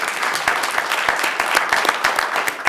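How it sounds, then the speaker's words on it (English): A city council meeting crowd claps for two children after the Pledge of Allegiance, a moderate, fairly sparse round of individual claps with distinct sharp hits, heard alone without speech. "Everyone give a big round of applause"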